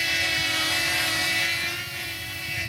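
DJI Flip and Hover Air X1 Pro Max selfie drones hovering nearby, giving a steady, loud propeller drone with a tonal whine layered over a broad hum, unbroken throughout and without any talk.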